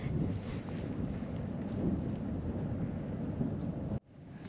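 Breezy morning wind out in the desert near the Oregon Mountains, a steady rough roar buffeting the microphone, loud and constant before dropping off abruptly near the end.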